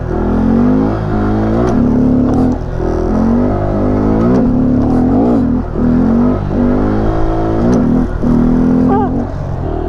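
A Honda Grom motorcycle revs hard during wheelie practice, its small engine climbing and falling in pitch through repeated throttle sweeps, loud and close with wind buffeting.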